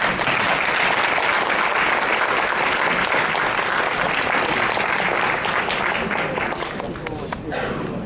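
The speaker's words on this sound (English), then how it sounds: "Please give a round of applause for this year's 2014 Woman of Power honoree, Amy Dubois Burnett." A conference breakfast audience applauds a Woman of Power honoree. Loud, steady, full-room clapping runs throughout and thins slightly toward the end, with cheers and voices mixed in.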